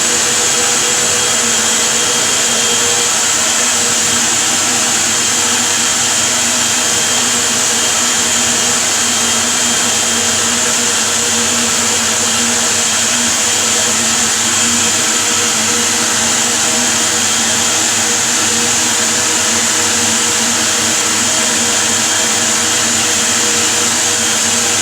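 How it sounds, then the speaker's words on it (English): An electric whisk beats cheesecake mixture with lemon and salt, giving a loud, constant high whirring drone that holds steady and close throughout, with no speech. "And again, it's going back to be whisked."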